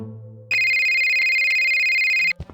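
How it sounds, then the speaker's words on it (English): A telephone in the video game Scott Whiskers in: the Search for Mr. Fumbleclaw rings with a steady electronic tone, loud and sustained for about two seconds before cutting off, with a few clicks after. "when a phone suddenly starts ringing"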